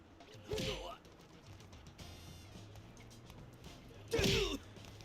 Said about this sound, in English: There are sound effects that will give you the heads up on the distance between you and your opponent.